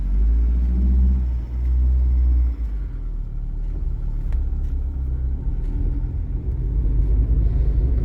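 An FSO Polonez 1.5 SLE car rolling out of a garage, its engine giving a steady low rumble that dips slightly early on, then holds and builds a little as the car moves off.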